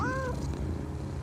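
A cat in the video game Crimson Desert gives one short, rising meow at the start, followed by a low ambient game background rumble.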